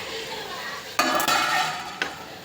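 Beans, green chilli and carrot stir-fried in oil in a pan, with a few sharp clinks of a utensil against the metal over a soft sizzle.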